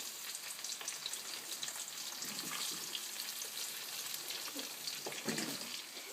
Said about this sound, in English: now I'm gonna fry them. Just the same way, like how I did with potato